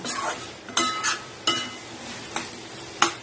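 A spoon stirs ridge gourd (shirali) vegetable curry in a pan, giving several sharp scrapes and clinks against the metal at irregular intervals over a soft sizzle, close and fairly quiet with no voices.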